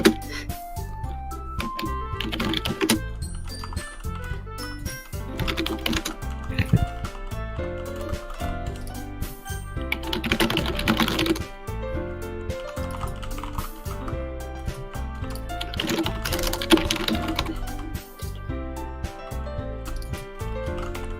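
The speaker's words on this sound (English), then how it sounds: "Now I finally hear what my keyboard sounds like." A computer keyboard clatters with irregular key clicks during an online literature club session. The typing is fairly faint and sits under soft tonal background music.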